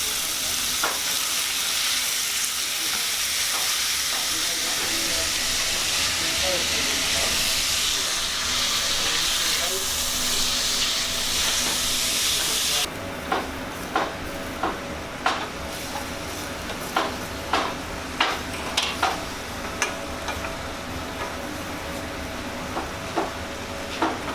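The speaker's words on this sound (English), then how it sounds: "Getting their mince nice and brown for their dish" Mince browning in a frying pan gives a steady, loud sizzle and hiss for about half the clip, then quieter frying broken by repeated sharp clicks and scrapes of stirring.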